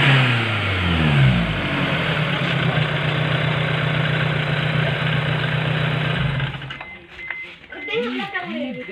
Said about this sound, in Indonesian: Ambil bunyi enjin.